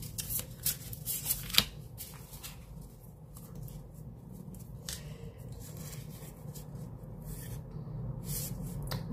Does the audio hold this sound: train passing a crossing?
no